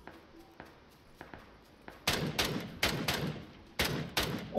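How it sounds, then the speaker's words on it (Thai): Gunfire rings out in an online shooting game. A few faint, sparse shots come first, then louder, sharp bursts arrive in quick clusters, with no talk over them. "โอ้โหเสียงปืนโคตรบอกจุด"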